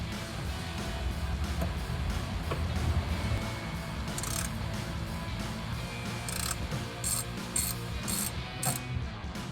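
A ratchet works a T50 bolt out of the seatbelt perch in a 2010-2014 Mustang, clicking rapidly and steadily up close with a continuous mechanical rattle.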